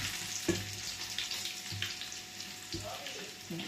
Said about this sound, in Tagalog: Isap po natin itong bawang natin. Dito sa ating pinagprituhan ng ating isda.